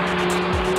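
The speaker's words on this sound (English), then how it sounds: "first of all you hear how loud the engine is" An Audi RS Q3 engine in sport mode drones loudly and steadily from inside the cabin, a short burst of sustained low growl with a steady tonal hum.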